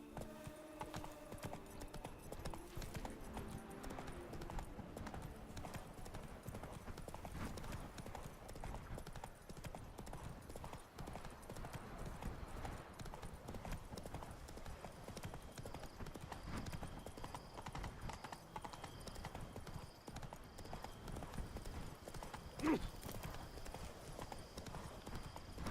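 Roach, a horse in The Witcher 3, with steady clip-clopping hooves running for the whole stretch over a constant busy game backdrop, plus a brief louder knock near the end.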